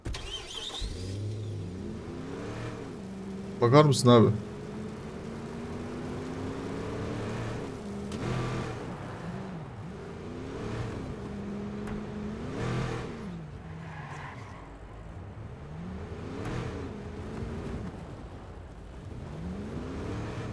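A car driven in the Watch Dogs video game, a steady mid-pitched engine hum that rises and falls with gear shifts and acceleration, with a brief loud clatter early on and a short spoken line over it.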